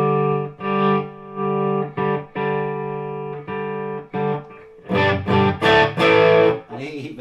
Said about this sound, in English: You're going to use some amount of distortion on it really.